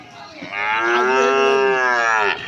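Cattle at the old Manik Nagar cattle market in Singair, Manikganj give a single long, loud, close moo that swells and holds for about two seconds, heard alone without talk.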